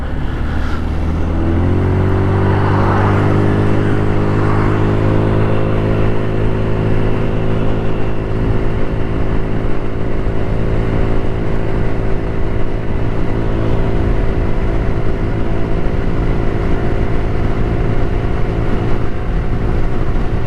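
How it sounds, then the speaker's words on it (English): A GY6 150cc scooter runs at full throttle on an early morning ride, its engine droning steadily loud and near with rising pitch as it climbs, all wrapped in constant wind rush. "I really don't like forcing my scooter full throttle, but in times like this I have to."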